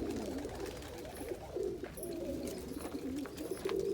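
Young homing pigeons cooing softly in a loft, low murmuring coos repeating close by against faint background noise.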